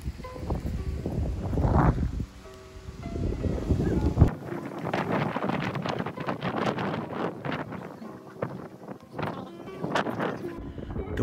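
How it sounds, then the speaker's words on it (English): Very strong wind buffeting a microphone outdoors during a sightseeing visit in Gifu, Japan, with loud rumbling gusts throughout and a sharp burst midway, close and overwhelming. "Wind here was super strong"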